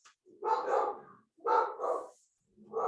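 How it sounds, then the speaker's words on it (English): Dogs bark in two short bursts of repeated barks with a quiet gap between, fairly close and clear, with a third bark beginning at the end and no talk over them. "wait for my dogs to stop barking at nothing"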